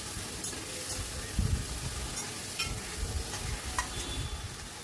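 Chopped tomato, ginger garlic paste and salt sizzle in a frying pan while a spoon stirs them, a steady close hiss broken by a few soft scraping knocks, with no talking.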